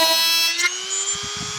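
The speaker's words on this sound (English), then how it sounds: "wanna drill it close to the line, but not too close" An electric drill whines steadily as it bores along a marked cut line in a plastic PlayStation 2 case, a close continuous tonal hum with faint low bumps near the end.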